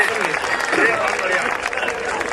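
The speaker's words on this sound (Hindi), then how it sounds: "तालियां सब मिलकर एक बार बजा दें" Audience applause at a Hindi comic poetry gathering, a steady wash of clapping from a crowd running throughout, with voices mixed in beneath it.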